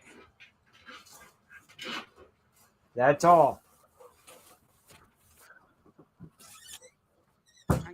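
A puppy lets out one short, loud yelping bark in the middle of quiet, intermittent conversation, followed later by a brief sharp sound near the end.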